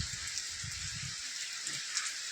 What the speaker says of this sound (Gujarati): ધીમી ધીમી ધાઈરે વરહે હે